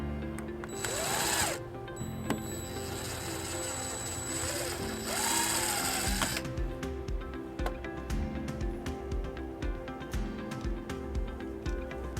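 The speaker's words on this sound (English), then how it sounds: "we'll go ahead and we'll drill that second hole" A power drill bores a second mounting-bracket hole on a 2014 Jeep Cherokee during a trailer wiring harness install. Two short whining bursts rise and fall, followed by scattered clicks and rattles of tools nearby.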